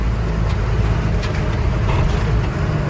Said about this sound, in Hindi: कांटे पर चढ़ाते हैं गाड़ी को और वजन पता करते हैं कितना आया है